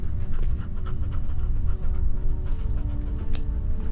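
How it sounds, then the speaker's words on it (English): Three small pups in a bunker in the video game There's Something In The Ice pant steadily and rapidly, close and continuous for several seconds, with faint whimpers and no talking. "Oh, aren't they nice dogs?"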